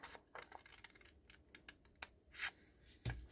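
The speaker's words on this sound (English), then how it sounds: "Then we're going to cut on the other side." Paper being cut along a score line for a small pocket craft project, a few soft, scattered snips and rustles at close range, quiet over faint background hiss, no voices.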